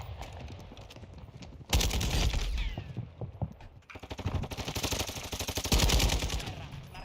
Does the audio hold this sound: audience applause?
no